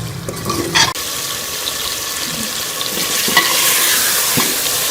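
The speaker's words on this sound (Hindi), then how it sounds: "घी ऊपर आने तक मसालों को जो है वो अच्छी तरह से चिकन के साथ भून लेंगे" Chicken and spices for tinday gosht being fried in ghee, a close, steady loud sizzle with a clank of the stirring spoon near the start and occasional scrapes, no talking.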